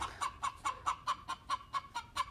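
Chickens cluck in a steady run of about ten short, evenly spaced calls, close by and fairly faint, with no talking over them.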